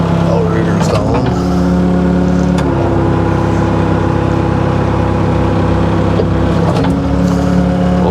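A running excavator engine with its boom being moved, a loud, steady diesel drone with a constant low hum, plus faint hydraulic shifts and clunks now and then, with a person talking over it.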